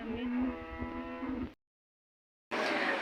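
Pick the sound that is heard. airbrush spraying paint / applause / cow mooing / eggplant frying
cow mooing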